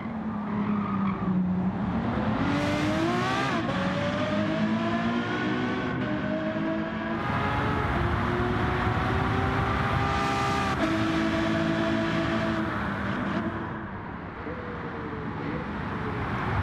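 A Ferrari F12 berlinetta's engine screams in a racing video game, climbing through gears with repeated rising revs and shift dips, joined by brief tire squeal, loud and close, and fading slightly near the end.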